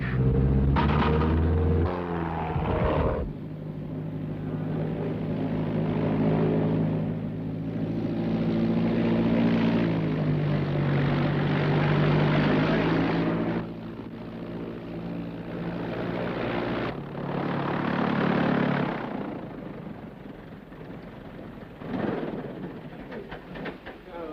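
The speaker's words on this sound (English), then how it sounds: "Hey, Hugo, you sure can fly that plane" A small propeller airplane coming in to land with full flaps and carburetor heat on, its engine drone loud and steady up close throughout, easing slightly in the middle before rising again.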